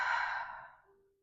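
A single full exhale during a yoga breathing exercise, a soft breathy sigh that starts clear and close and fades out over about a second.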